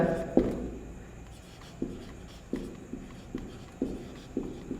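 Chalk or marker writing on a board during a chemistry lesson: a series of short taps and scratchy strokes in an irregular rhythm, about seven distinct hits, fairly close but quiet, with no talking.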